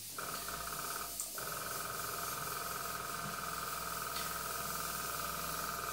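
An airbrush sprays thinned acrylic paint with a faint, steady hiss that runs almost continuously, briefly cutting out once near the start.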